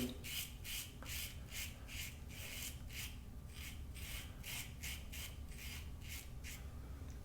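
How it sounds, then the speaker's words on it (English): A Goodfellas Smile Syntesi safety razor scrapes through a beard in a steady run of short, close, raspy strokes, about two per second, with no talking. "It's removing the beard very easily."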